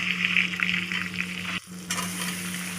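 Steady sizzling of eggs frying in hot oil in a kadai, continuous crackle with a brief dip near the end before the hiss swells again.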